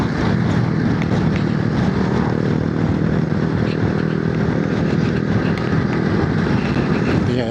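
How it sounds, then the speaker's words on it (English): A Voge motorcycle with a slightly detuned F900 engine is ridden on a test ride, giving a constant loud engine drone mixed with heavy wind rush, steady throughout without pauses. "It's got the F900 engine in it, slightly detuned."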